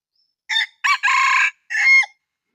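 A decoy rooster crows loudly and close by, several bursts in a row with a couple of short clucking notes between the drawn-out calls.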